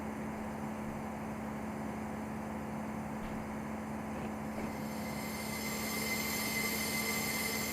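In the Train Sim Classic video game, a train rolls steadily over rubble on the track, a constant dense rumble of wheels with a metallic squeal rising near the end, no talking.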